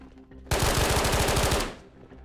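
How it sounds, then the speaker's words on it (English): Gunfire in a first-person shooter game set in Tabor: one loud, rapid automatic burst of about a dozen closely spaced shots lasting roughly a second, close and alone, with a short echoing tail. "already some gunshots going off, which is never good"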